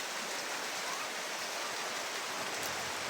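Steady rain falls across Mindanao as a dense, even hiss, continuous and fairly quiet throughout with no voices.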